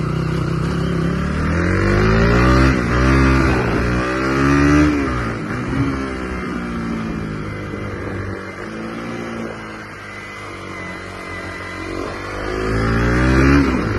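A motorcycle rides over a rough off-road track, its engine close and loud, repeatedly revving up and easing off in rising and falling surges as the rider works through the uneven ground.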